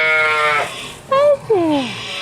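A freshly sheared sheep bleats close by in a few loud, wavering calls, one long cry followed by two shorter quavering ones, with no talk over them.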